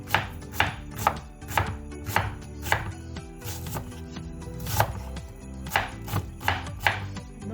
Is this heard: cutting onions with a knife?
yes